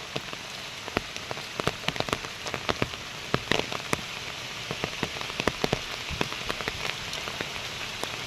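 Heavy rain falls steadily in a continuous wash, with close drops tapping sharply and irregularly on a nearby surface, and no voices.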